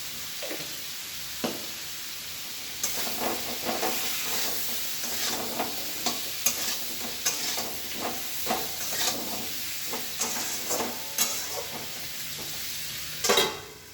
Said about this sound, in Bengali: ঢাকা দিয়ে ভাজতে হবে